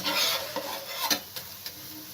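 Layered maida paratha cooking in a pan over a low flame, a soft continuous sizzle with a few sharp scraping taps from a spatula, close and moderately quiet, no voices.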